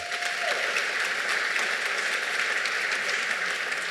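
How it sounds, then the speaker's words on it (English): Steady applause from a banquet audience at a 2025 induction ceremony, dense continuous clapping filling the room at moderate distance without pause. "Let's give them a big round of applause."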